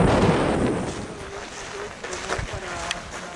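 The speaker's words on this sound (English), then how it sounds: "It's windy!" Strong wind buffets the microphone at an open spot in the Galápagos just after a plane landing, a steady loud roar with gusty bursts, while voices shout and talk faintly underneath.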